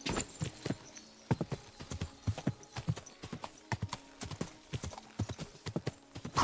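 A horse's hooves pound rapidly and irregularly in a gallop in the video game Kingdom Come: Deliverance 2, loud and close throughout, with a faint whinny mixed in.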